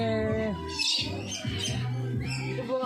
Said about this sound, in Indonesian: banyak burung di sini guys, tuh di atas guys